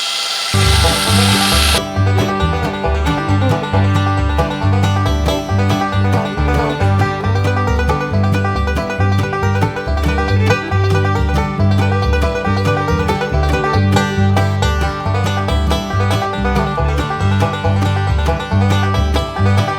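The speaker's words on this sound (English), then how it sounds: "now I can drill this in so far, then I can take this off and drill it the rest of the way" A power drill bores into wood, running steadily and loudly for about twenty seconds, its motor whine grinding on without pause, no voices over it.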